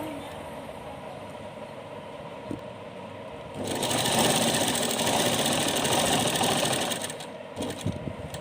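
A sewing machine stitches a small Laddu Gopal outfit, running in one steady whirring burst of about three seconds between quieter pauses, close and clear.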